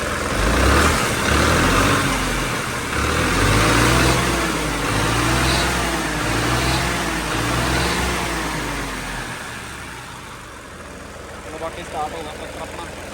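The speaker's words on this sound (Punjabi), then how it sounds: "ਸਟਾਰਟ ਹੋ ਗਿਆ ਟਰੈਕਟਰ ਆਪਣਾ" A New Holland tractor engine runs steadily after starting, a close, loud diesel rumble with a pulsing beat that eases slightly toward the end, with some talk over it.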